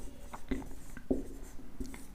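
A few short scratchy strokes of writing on a board during a physics lesson on the dispersion of light, quiet and close, with brief gaps between strokes and no speech.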